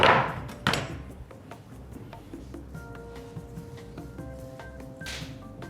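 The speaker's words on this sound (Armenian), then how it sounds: "Կանաչ սոխ ենք կտրատում։" A knife chopping green onions finely on a board makes a quick series of light, crisp taps, with a heavier knock or two at the start.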